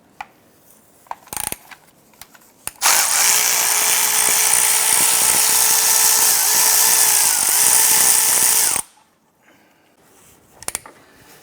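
Sustained whirring of a power ratchet or impact tool spinning out the starter bolt with a 15 mm socket on a 2006-2013 Chevrolet Impala, loud and close for about six seconds between a few faint clicks.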